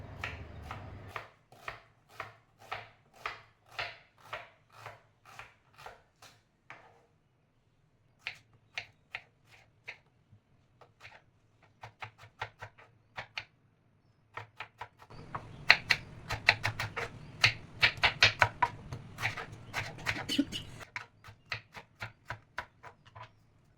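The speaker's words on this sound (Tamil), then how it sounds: "இப்போ அதுக்கு தான் வந்து வெஜிடபிள்ஸ் கட் பண்ணிகிட்ருக்கிறேன்." Vegetables being cut on a board for chicken gravy, heard as bursts of quick, sharp knife chops in steady rhythm with short pauses between runs, close and crisp, with a louder flurry near the end.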